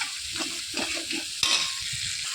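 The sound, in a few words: chicken frying and being stirred with ginger-garlic paste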